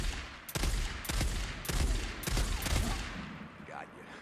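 Heavy .50 caliber gunfire in the video game Days Gone sounds in five loud, booming shots spaced roughly half a second apart, each with a sharp crack and rumbling tail, and a fainter electronic warble follows.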